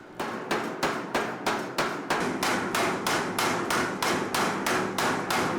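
A power hammer pounds a layered steel billet for a knife in a fast, steady rhythm, heavy repeated blows ringing close and loud, the pace quickening slightly midway.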